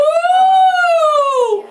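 A voice imitates a siren during a vocal lesson exercise: one sustained sung 'woo' gliding smoothly up and back down in pitch, loud and alone for under two seconds.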